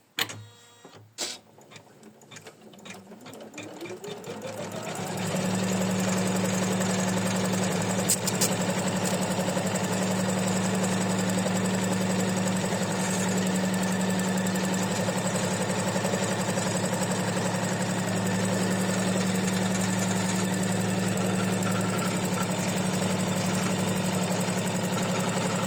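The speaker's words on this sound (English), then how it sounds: "So we hoop the tearaway stabilizer in the hoops and we stitch the placement line." An embroidery machine stitching a placement line on tearaway stabilizer in a hoop, starting with a few clicks and then settling into a steady, loud mechanical whir with rapid rhythmic ticking that runs on unchanged.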